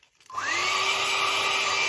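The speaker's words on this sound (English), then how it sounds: "keep a hairdryer handy" A hair dryer switches on after a brief quiet moment and blows steadily, a close whirring hum with a rising whine, as it dries enamel-like paint marker on a scale model.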